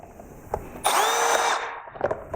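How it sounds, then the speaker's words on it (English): A power drill with a 5/32 bit whirs steadily for under a second, boring through a plastic mud flap on a BMW M2, with a brief rising and falling motor pitch and quiet handling sounds around it. "Then we can go ahead and drill them."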